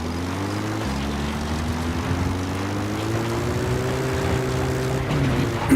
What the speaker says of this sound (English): The support helicopter requested.